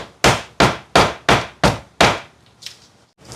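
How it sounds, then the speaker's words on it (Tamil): Six sharp, evenly spaced knocks as a block of palm jaggery (karupatti), about 300 grams, is struck and broken into pieces, loud and close with no talking, followed by a few fainter taps and one more blow. "இதில் கருப்பட்டி எடுத்துருக்கேன். 300 கிராம் கருப்பட்டி எடுத்துருக்கேன். இதை கொஞ்சம் இப்படி"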